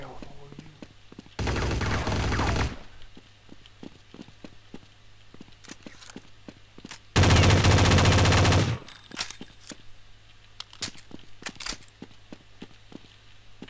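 Two long bursts of loud machine-gun fire in Counter-Strike Condition Zero, each a couple of seconds of sustained automatic shots, stand out between quieter stretches of scattered footsteps, single shots and low talk.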